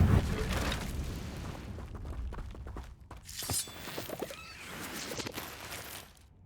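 A Confringo blasting spell in Hogwarts Legacy bursts with a loud explosive crack at the start, followed by rumbling debris and a second smaller blast midway, with faint game sounds between.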